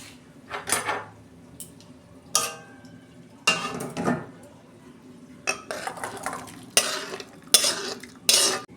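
Cooked sour dish being poured from a pan into a serving dish, with a series of close metallic clinks and scrapes of utensil against cookware, irregular and moderately loud, with no talking.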